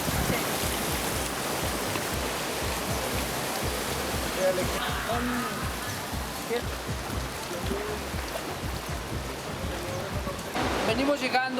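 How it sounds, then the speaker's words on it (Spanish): A waterfall on the Amacuzac River pours as a continuous rushing wash of water heard from a boat, with voices talking over it throughout and a brief louder splash near the end. "Mira una cascada."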